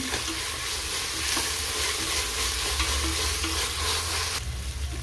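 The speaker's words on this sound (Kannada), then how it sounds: "ಚೆನ್ನಾಗಿದು ಹಸಿ ವಾಸನೆ ಹೋಗೋಗಂಟ ಮಿಕ್ಸ್ ಮಾಡ್ಕೊಳೋಣ ನೋಡಿ ಚೆನ್ನಾಗಿ ಫ್ರೈ ಆಗಿದೆ" Veg biryani masala with a handful of fresh mint being stirred and fried in a pan, a steady close sizzle with scraping spatula strokes throughout, no voices.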